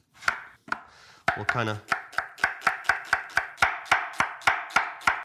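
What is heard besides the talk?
knife chopping ingredients into small cubes for paella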